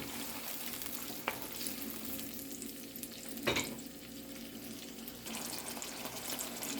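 Tomato sauce for pork and beans sizzles softly in a pan, a low steady fry with a couple of sharp clinks and a brief clatter partway through.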